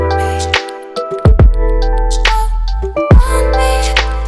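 A lofi beat built around a pitched, tuned vocal sample of a voice drenched in reverb, with sustained synth chords, deep bass and occasional drum hits swelling and dropping out, loud and upfront.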